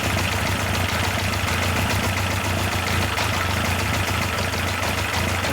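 A Yamaha FJ 1200 motorcycle idles steadily but unevenly after carburettor synchronisation, a loud, close, continuous engine rumble with a rough, lumpy beat and no talk.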